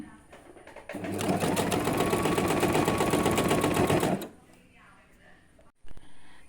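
A sewing machine stitches pleated fabric for a 46-inch nighty, joining the pleated frock section to the yoke in one continuous, close, rapid whir lasting about three seconds, followed by quiet handling and a short clunk.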